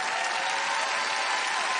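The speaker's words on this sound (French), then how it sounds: "il faut applaudir nos volontaires aussi" A TV studio audience applauds volunteers on a French hypnosis entertainment show, with steady, dense clapping that holds at an even level for the whole stretch and no one speaking over it.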